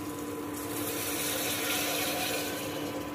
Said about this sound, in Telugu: ఈ చింతపండు రసాన్ని ఇంకా దాంట్లో పోసేద్దాం